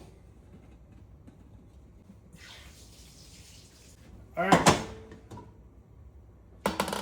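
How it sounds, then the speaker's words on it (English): Water is poured off a pot of soft boiled sweet potatoes into a sink, a soft splashing rush followed by a louder sharp splash and clatter near the end, with a voice speaking briefly. "I'm gonna try my best to strain out the water."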